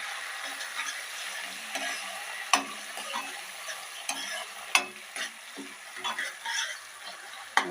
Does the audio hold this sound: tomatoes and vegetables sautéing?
yes